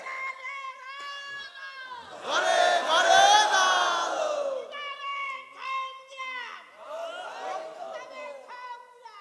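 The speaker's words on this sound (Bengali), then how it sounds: "একটু তাকবীর টাকবীর দিও, লিল্লাহি তাকবীর" A sermon crowd chants takbir (Allahu Akbar) in loud unison, rising into a big collective roar, then repeating in shorter shouted waves, with a preacher's voice leading and between the chants.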